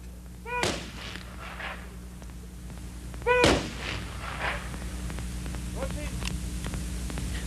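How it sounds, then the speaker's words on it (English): A military gun salute at a funeral for a fallen pilot, two sharp volleys of rifle fire about three seconds apart cracking over a steady electrical hum, with quieter echoes trailing after each. "A gun salute was the final honor bestowed upon a hero, Major Pilot Zoran Radisavljević"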